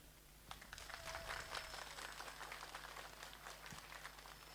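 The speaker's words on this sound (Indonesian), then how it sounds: "Sekali lagi tepuk tangan" Faint, steady applause from an assembled crowd at an outdoor Hari Santri 2025 assembly, a soft, even patter of many hands lasting several seconds at a distance.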